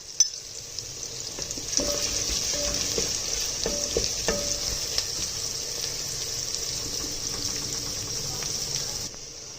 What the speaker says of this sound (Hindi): इसके अंदर साथ में ज़ीरा भी ऐड कर दूंगी ताकि ज़ीरा भी साथ फ्राई हो जाए